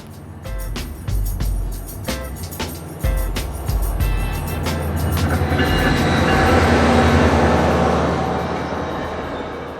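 A SunRail commuter train rumbles past at close range, with rhythmic clacking early on and a rising, broad roar of wheels and carriage noise that grows louder toward the end.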